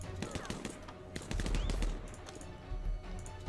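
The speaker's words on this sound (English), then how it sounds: "they've heard the gunfire and they're coming over" Gunfire in the stealth shooter Partisans 1941, with rapid shots and a short burst of heavy automatic fire crackling close and loud amid game noise, voices audible in the mix.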